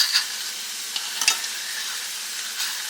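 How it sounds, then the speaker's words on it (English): A metal spoon scrapes and clinks against a metal pot while stirring thick grits, with a soft steady sizzle underneath. "I have a metal spoon in my metal pot. If the sound bothers you, please turn your volume down."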